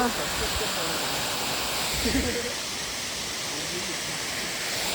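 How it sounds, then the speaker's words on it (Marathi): A monsoon waterfall at Bhandardara sends out a continuous, close, broadband roar of falling water, with a brief voice faintly heard beneath it. "मस्त पाणी पडते, काही विषय नाही"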